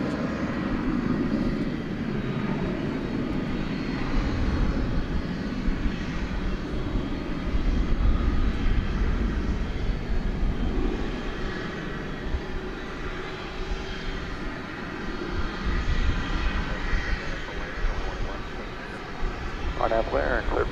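Airliner jet engines roar at DFW airport at night, a steady broad rumble under radio talk throughout.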